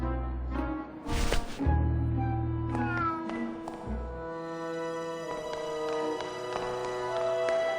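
Cartoonish cats meow and caterwaul at the cat races in the video game Grim Fandango, with several drawn-out yowls over a busy race-track soundscape of clatter and clicks.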